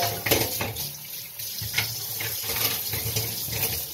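Water runs steadily from a kitchen tap into a sink as cans are rinsed out, with splashing and occasional light clinks, close and alone without speech.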